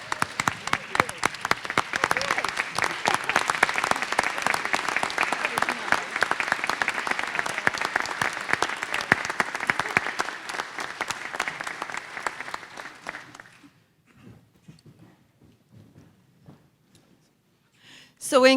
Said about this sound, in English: Let's give her a standing ovation here